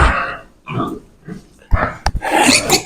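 A piglet grunts and squeals close by in short, irregular bursts, with some rustling and scuffling in between.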